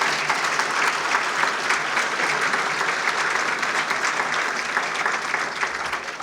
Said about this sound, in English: Would you give Donna Duperon a big round of applause?